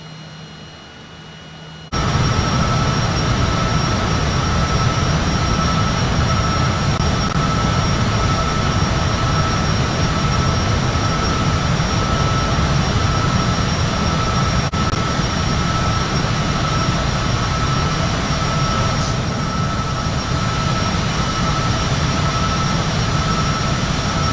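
Learjet engine in a flight simulator game at Aspen Pitkin County Airport, Colorado, a loud, steady jet roar and whine that kicks in abruptly after a quiet start and holds constant throughout.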